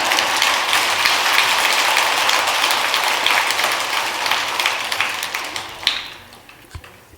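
Applause from an audience at a Buddhist dharma assembly, a broad, steady patter of clapping that gradually thins and fades toward the end, with a few isolated louder claps.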